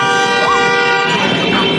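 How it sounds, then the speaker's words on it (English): A car horn sounds on a busy New York street, a loud, close, sustained blare lasting nearly two seconds. "Why you honking?"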